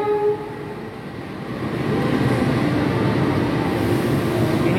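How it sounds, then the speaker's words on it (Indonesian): A Taksaka express train on the Jogja–Jakarta line rumbles past, with a brief horn-like tone at the start, then a loud, steady roar of rolling wheels and rail noise that builds and holds close by. "Ini dia teman-teman kereta api Taksaka, kereta cepat Jogja-Jakarta"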